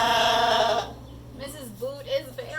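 A sheep lets out one loud, sustained bleat lasting under a second, close and clear, followed by a person speaking in an animated storytelling voice.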